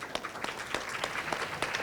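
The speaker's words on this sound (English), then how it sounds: "Big round of applause to Pak Vincent" Steady applause from a conference audience, a short burst of individual claps in an even rhythm, moderately close and with no talking.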